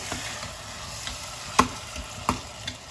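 Bottle gourd cooking in oil for a tamarind curry, a soft low sizzle with a few sharp spoon-against-pan clinks and stirring knocks spaced over three seconds, quiet and close with no voices.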